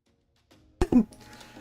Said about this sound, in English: let me just have my coughing fit